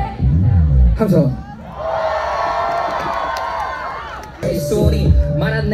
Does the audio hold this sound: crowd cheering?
yes